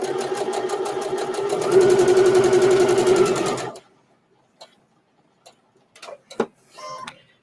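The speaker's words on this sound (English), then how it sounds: "I'm going to stitch in place and lock it and stitch across" A sewing machine stitching in place and then across on a pin cushion and scissor holder project, a rapid rhythmic mechanical whir lasting about four seconds, followed by near silence broken by a few soft clicks and handling sounds.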